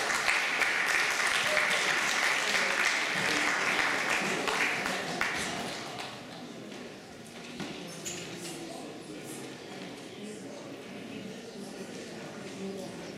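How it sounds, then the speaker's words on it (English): Audience applause at an Earth Day celebration in New York City, a dense wash of clapping that is strong at first, then thins and quiets after about six seconds as scattered claps and murmuring voices continue. "Let's have another round of applause for Jane Vigneault."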